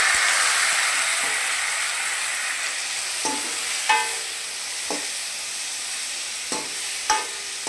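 Tomatoes and curry leaves fry in a pan for a squid curry, a steady sizzle fading slightly over time, punctuated by several sharp spoon or spatula clicks against the pan, no talking.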